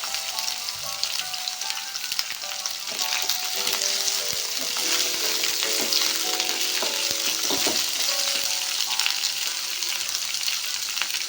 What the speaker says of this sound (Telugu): ఇది ఆయిల్లో ఎంత వేగితే అంత టేస్ట్ అయితే బాగుంటుంది. సో ఇది వేయించుకునేటప్పుడు మీడియం ఫ్లేమ్లోనే వేయించుకుందాం.